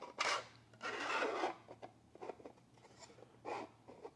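3D printed blast gate parts being pushed and fitted together, giving short scraping, rubbing plastic sounds in irregular bursts, close and fairly quiet.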